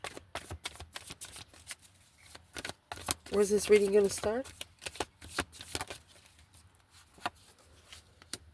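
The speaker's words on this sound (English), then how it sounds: "Let's shuffle this spread." Tarot cards are shuffled by hand in short, crisp bursts of riffling and tapping, with a denser flurry in the middle, while someone talks quietly over the shuffling.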